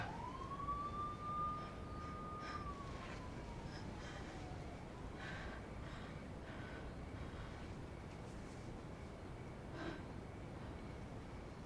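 A police siren wails loudly in a single rising and falling sweep, then fades into a quieter outdoor background with faint scattered noises.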